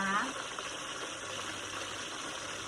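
Fish, Thai-style mackerel, frying in hot oil gives off a steady low hiss and bubbling that carries on evenly throughout, with a brief tone at the start.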